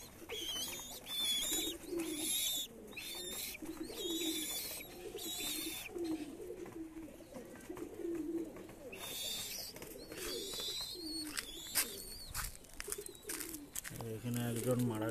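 Pigeons sick with pox coo low and repeatedly close by, with bird chirps above, while a person talks over them.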